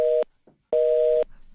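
A telephone line gives a busy tone after a cut-off call: two flat, steady electronic beeps, the first short and the second about half a second long, separated by a brief gap with faint line noise, no speech.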